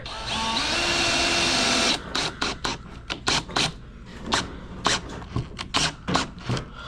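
Power drill driving screws into wood during a bellows restoration: a sustained whirring drill run for about two seconds, then a string of short, sharp bursts as the screws are driven and seated, close by with no talk.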